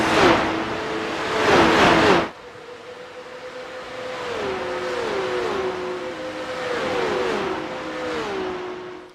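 Porsche Carrera Cup race cars at Road America: a loud engine roars close by and then fades, leaving a distant, steady engine drone whose pitch rises and drops with repeated gear shifts.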